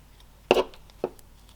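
Scissors snip through material for a simple gnome house craft, two short crisp cuts close by, the first slightly longer, in a quiet room.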